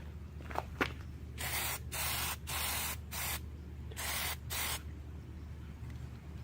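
An aerosol can sprays a first coat of Plasti Dip in several short, close bursts of hiss separated by brief pauses, after a couple of small clicks at the start.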